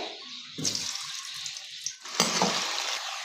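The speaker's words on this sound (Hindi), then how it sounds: "इसमें हम डालेंगे सबसे पहले आलू को हम हल्का सा गोल्डन फ्राई कर लेंगे" Potatoes drop into hot oil in a kadai, letting out two loud bursts of sizzling that settle into a steady, close frying hiss.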